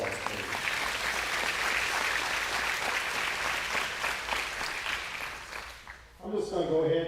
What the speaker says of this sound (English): would you give those folks a round of applause, please?